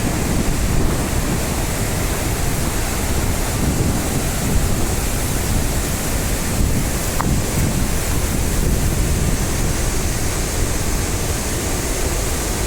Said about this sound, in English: It started raining like hell, bro.